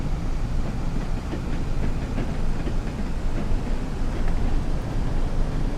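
A steam train pulls away on the Tees Valley Line in Train Sim World 3, giving a steady, dense rumble with faint rhythmic clatter that holds constant and fairly loud throughout, with no voices.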